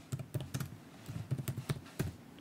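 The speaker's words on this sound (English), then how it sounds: "So I click on that and I'm going to type in a name" Close, fairly quiet clicking of keys on a computer keyboard as a name is typed, a run of irregular keystrokes with brief pauses between bursts.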